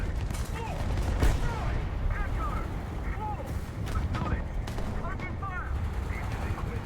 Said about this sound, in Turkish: Topçu desteği istedim o bölgeye.